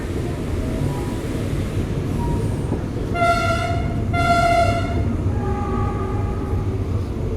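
A train on the Thailand Death Railway, the Siam–Burma line near the River Kwai bridge, rumbles steadily past close by, sounding two long horn blasts in the middle of the pass, with a softer tone trailing after.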